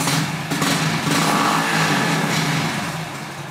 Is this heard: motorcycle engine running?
yes